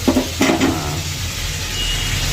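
Food sizzling and frying in a pan during home cooking, a steady close hiss with a couple of brief louder bursts near the start, continuing alone without talk.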